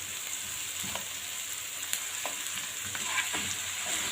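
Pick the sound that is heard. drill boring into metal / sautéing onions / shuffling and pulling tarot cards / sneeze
sautéing onions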